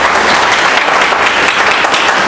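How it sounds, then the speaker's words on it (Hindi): Loud, sustained applause from a training-session audience, a dense continuous wash of clapping with no talk on top. "तो अपने लिए ताली बजा लो"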